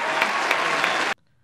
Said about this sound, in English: So let's all give Apple a round of applause.